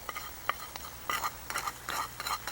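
A spoon folds black pepper, salt, lemon juice and fresh coriander into tender cooked carrots in a pan, with soft, close scraping strokes and light clicks over a faint sizzle.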